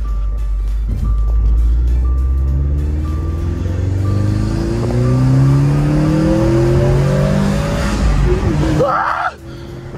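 A manual transmission car drives and revs, a continuous loud engine rising in pitch through repeated climbs as it shifts up through the gears. A brief rustle comes near the end.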